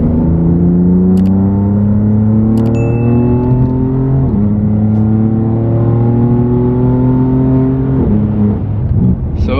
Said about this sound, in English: It sounds super good, super throaty, and again, you can hear the turbo spools